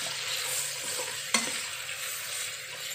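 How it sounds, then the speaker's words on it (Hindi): Marinated chicken pieces for a dhaba-style bhuna masala fry in a pan with a steady, loud close sizzle, with a single brief clack of a utensil partway through. "इसी तरह से भून लेंगे हम।"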